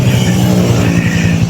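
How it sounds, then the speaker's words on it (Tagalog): A motorcycle engine labours up a steep road as it arrives, a steady loud drone with low rhythmic throbbing that holds at close range throughout, with no voices. "nakabalik na yung motor natin"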